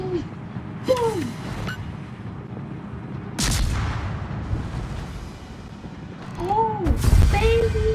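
Naval gunfire explosions in the World of Warships video game sound as heavy booms and rumbling blasts recurring across the span, mixed with whistling shell sounds and a dense, loud battle backdrop.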